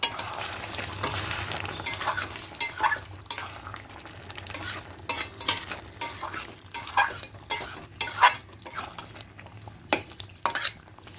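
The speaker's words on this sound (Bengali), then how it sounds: "এবার এখানে গরম জল অ্যাড করব এবার খুব ভালো করে মিশিয়ে নেবো" Spinach chicken curry with potatoes is stirred in a pot after hot water goes in, close irregular scrapes and clinks of a spoon against the metal over a soft simmering bubble, no one talking.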